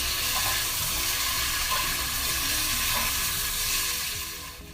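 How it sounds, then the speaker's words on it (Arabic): Chopped coriander sautés with other ingredients in a hot pan, a loud continuous sizzle and crackle throughout that fades slightly at the very end. "أحمسها ويا المكونات"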